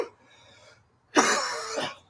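A single person coughs and clears their throat at close range during a live church service, a short burst of harsh, loud hacking that rises and fades after a quieter breathy moment, with no talk over it.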